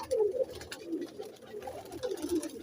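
Pigeons, including a Batera breed pair, coo softly in repeated low, throaty phrases, fairly close, with faint background clatter and no speech.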